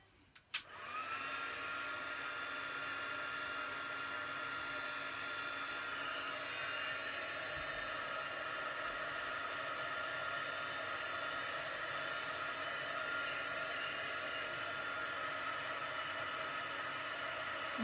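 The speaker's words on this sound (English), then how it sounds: "And I'm just going to switch my heat tool on now." An embossing heat gun switches on with a click and then blows a steady, loud, hissing whoosh of hot air that holds constant for the rest of the time, close by with no talking.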